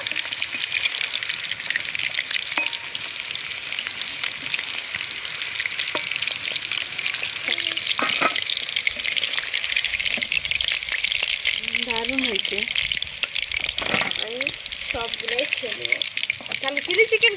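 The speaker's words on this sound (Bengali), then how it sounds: "লাল লাল করে ভেজে নিয়েছি এবার আমি পকোড়াটা তুলে নেবো" Pakora fritters frying to a deep red-brown in hot oil for chilli chicken, a dense steady crackling sizzle throughout with occasional utensil clinks and faint voices in the background.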